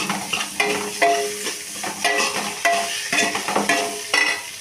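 Potatoes and onions sizzle and fry in a pan while being stirred, with steady close crackling and repeated scraping strokes of a spoon.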